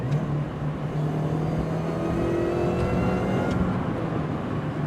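Supercharged R53 MINI Cooper S with a 17% supercharger pulley and intercooler, its engine revving steadily at part throttle with a continuous droning hum and mild whine, close and fairly loud throughout.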